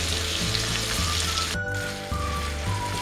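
Prawns frying in oil in a pan for a Bengali doi chingri, a dense steady sizzle and crackle running close and loud throughout, with no one talking.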